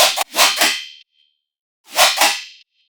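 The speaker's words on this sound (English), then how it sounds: "a reverb filtered RIDDIM bass" A heavy riddim dubstep bass, reverb-filtered, comes in two loud bursts of about a second each with a pause between them and no voices.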